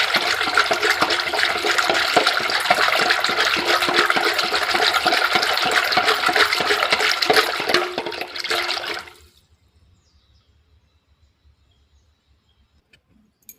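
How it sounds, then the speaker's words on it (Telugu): A wooden churner works through buttermilk to bring up butter, making a continuous rhythmic sloshing and swishing for about nine seconds before stopping abruptly into near silence. "మళ్ళీ ఒకసారి కవం బట్టి అనేద్దాము ఒకసారి."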